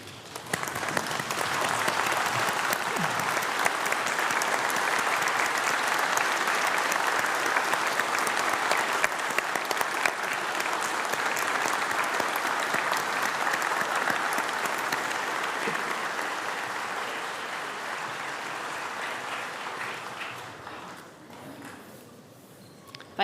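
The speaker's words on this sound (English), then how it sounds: "with a warm round of applause and some cheering, join me in thanking all those who have supported you throughout your journey" A graduation ceremony crowd for a criminology and criminal justice school gives a sustained round of applause, broad and even, with cheering mixed in, gradually thinning toward the end.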